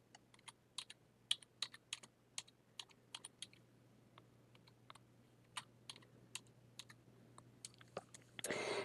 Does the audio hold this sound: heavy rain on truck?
no